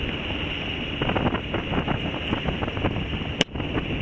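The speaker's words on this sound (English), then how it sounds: "So now engine and a flappy main because it's into the wind." A sailboat motors into the wind with its mainsail flapping; the engine drones steadily under heavy wind buffeting and irregular fluttering, with one sharp knock partway through, loud and close.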